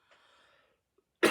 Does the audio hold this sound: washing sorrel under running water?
no